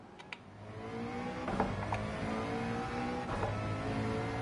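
A McLaren race car engine roars around Spa in a racing video game, holding a loud, steady high-revving drone with brief shifts in pitch that suggest gear changes, with no talk.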